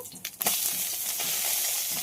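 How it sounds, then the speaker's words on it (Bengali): Puti fish frying in oil in a wok, where a few clicks and scrapes are followed by a loud, steady hiss and sizzle close by. "এই সাইডটাও খুব ভালো করে ভেজে নেব"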